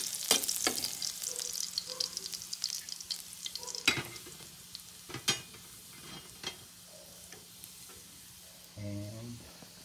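Chopped garlic sizzles in a small amount of cooking oil in a pan, a steady hiss with scattered clicks and scrapes of stirring, close by, and a short low rattle near the end.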